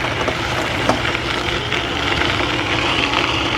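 Steady, fairly loud rushing hum while riding an Ebikeling AWD dual-motor 1000W 48V electric bike with 26-inch wheels, with motor drone and wind noise blending together.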